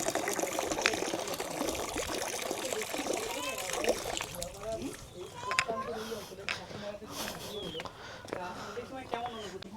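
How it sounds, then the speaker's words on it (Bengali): Water pours from a tap on a house on Ghoramara Island in the Sundarbans, splashing and trickling close by while people talk over it, the flow easing after a few seconds. "এখানে এই যে জল, কলের থেকে জল পড়ে যাচ্ছে"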